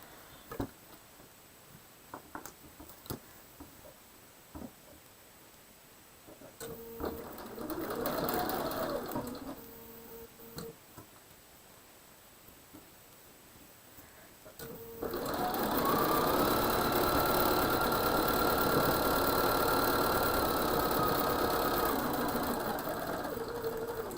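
A sewing machine stitches a seam on a quilt block, first in short bursts amid faint clicks and handling noise, then running steadily and louder through the second half, close by with no talk.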